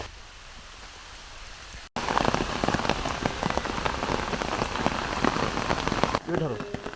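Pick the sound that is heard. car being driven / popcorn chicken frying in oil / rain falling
rain falling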